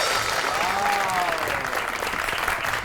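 Studio audience applause welcoming actress and TikToker Iqra Chaudhry onto a Pakistani TV comedy show, a dense steady burst of clapping lasting a few seconds.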